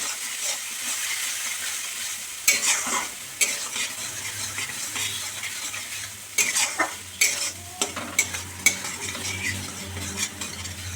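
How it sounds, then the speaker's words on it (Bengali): Spice paste loosened with a little water sautés in a pan for thor dalna, a soft sizzle broken by repeated scraping stirs and clinks of a spatula against the pan, close up and without talk. "সামান্য একটু জল দিয়ে এই মশলার জলই গুলে নিয়ে দিয়ে কষে নিতে হবে ভালো করে।"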